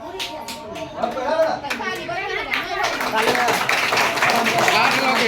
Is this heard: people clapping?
yes